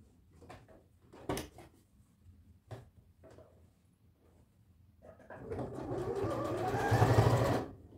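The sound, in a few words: sewing machine stitching through the elastic of sweatpants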